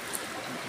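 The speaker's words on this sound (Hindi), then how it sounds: "सभी चावल के लिए पानी डाला जा रहा है।" Water pours steadily into a cooking pot for rice in an outdoor kitchen, a brief, even rushing trickle at close range.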